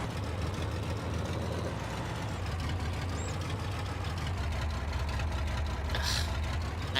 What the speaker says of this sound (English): It's just a noisy tractor because it's a straight pipe.